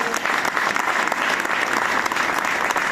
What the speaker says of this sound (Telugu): ఒకసారి గట్టిగా క్లాప్ అందరూ